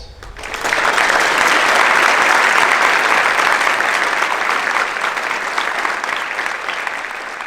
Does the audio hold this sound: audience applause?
yes